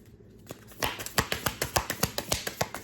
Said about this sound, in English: I'm gonna shuffle it one more time